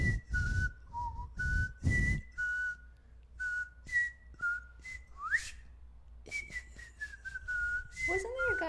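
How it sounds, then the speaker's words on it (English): A person whistles the Jeopardy theme song, a clear melodic tune of short rising and falling notes in a steady rhythm, close and fairly loud, with brief pauses between phrases. "This would be the point where we whistle the Jeopardy theme song."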